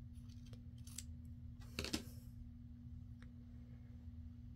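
Scissors trimming paper for a handmade junk journal, a few close, quiet snips clustered together over a steady low hum.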